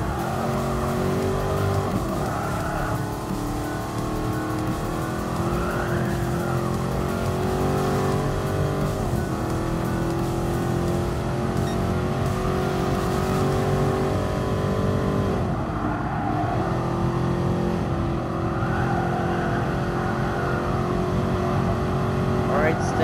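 A De Tomaso Pantera races in Gran Turismo Sport, its engine revving and shifting repeatedly with tire squeals through corners, loud and continuous, while someone talks over the racing.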